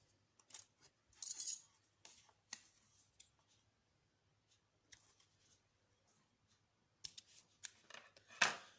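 Scissors snip the leftover cord ends of a four-colour half-and-half macrame bracelet, a handful of short, quiet cuts spread irregularly with pauses between them, the last snips slightly louder.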